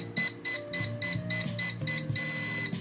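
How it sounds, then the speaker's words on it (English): An RC ERA C138 helicopter transmitter pairing with its receiver, for a 1/33-scale Bell 206, emits repeated electronic beeps in a rapid pattern ending in a longer tone, over a tonal background. "When you hear the pause beep, long beep, well, now you know that's center."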